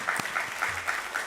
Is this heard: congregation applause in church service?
yes